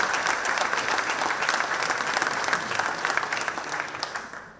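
A seated audience at a round-table talk on sculptural heritage in Santa Cruz de Tenerife claps warmly, a dense, steady wash of hand claps that gradually tapers off, with no talking over it.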